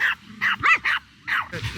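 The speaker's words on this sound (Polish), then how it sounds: "Guci się zmęczył szczekaniem." A Spitz dog barks in a series of sharp, high-pitched yaps, about six in quick bursts with brief pauses between, close and loud against an otherwise quiet outdoor background.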